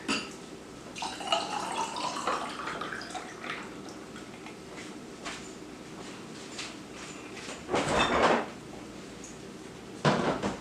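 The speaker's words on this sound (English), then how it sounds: "And then you just fill it up with water." Water running and splashing into a container in intermittent bursts, with a loud gush near the end and light kitchen clatter.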